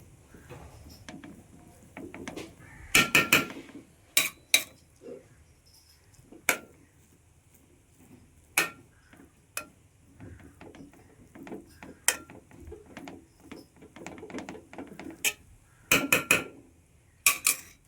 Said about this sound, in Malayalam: നമ്മളെ ചോറും മസാലയെല്ലാം നന്നായി മിക്സ് ചെയ്തെടുക്കുക.